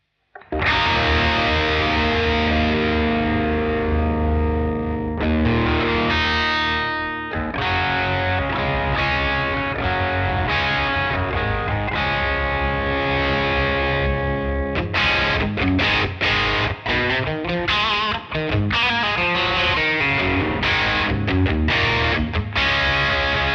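An electric guitar runs through a Revv G3 distortion pedal with the aggression switch off and the gain rolled back. It plays loud, sustained, crunchy chords, then choppier rhythmic riffing. No voices.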